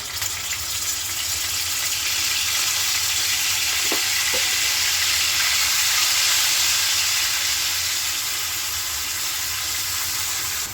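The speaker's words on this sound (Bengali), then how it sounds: "এবার দিয়ে দিচ্ছি 3 টেবিল চামচ পেঁয়াজ বাটা।" Onion paste sizzling in hot oil with cinnamon, cardamom and bay leaf for chicken kofta curry, a steady, loud, close frying hiss with a couple of faint utensil clicks.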